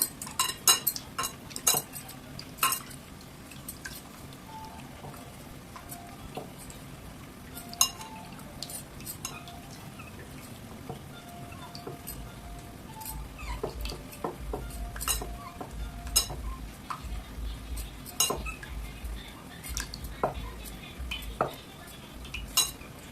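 A spoon scrapes and presses against a bowl, mashing tamarind pulp in scattered, uneven strokes, with occasional light clinks and a low hum underneath.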